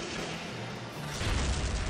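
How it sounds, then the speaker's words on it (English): An explosion in Valkyria Chronicles Remastered: a dense, roaring burst of noise that swells louder toward the end, with a heavy low rumble and no speech. "Explosion!"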